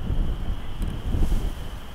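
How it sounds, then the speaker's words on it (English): Steady wind roars and buffets the microphone, a low rumbling gust noise that swells and eases throughout without pause. "They said it was going to be like a bad windy day."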